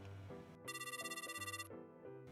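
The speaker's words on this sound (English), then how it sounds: "A phone call by Miharu." A phone rings with an incoming call, playing a bright electronic ringtone melody with a trilling high note in the middle, quiet and alone without speech.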